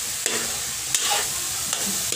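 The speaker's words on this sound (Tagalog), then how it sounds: "kunting halo-halo lang muna yung ginagawang latik" Coconut milk being stirred in a pan over a wood fire while cooking latik for biko: a steady bubbling sizzle with a few scraping spoon strokes, close and fairly loud, with no voices.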